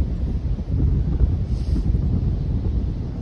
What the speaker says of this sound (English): Still in this wind.